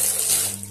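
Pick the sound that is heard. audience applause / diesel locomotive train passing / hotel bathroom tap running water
hotel bathroom tap running water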